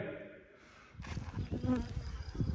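Honey bees buzzing around hives at an apiary during pre-harvest work, a close, steady drone with rustling handling noise and faint background sounds.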